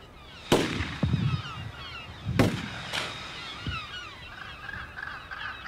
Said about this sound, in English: using a shotgun, not to try and shoot the birds themselves, but to actually just put some noise into the air